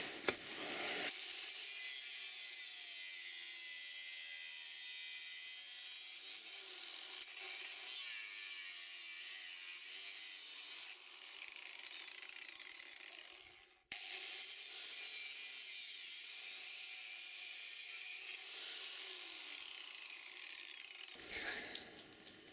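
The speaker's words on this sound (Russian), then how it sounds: "Сейчас будем пилить." Hand saw cutting through a refrigerator compressor, a steady rasping stroke that runs continuously and loud and close, with a short pause partway through and no talking.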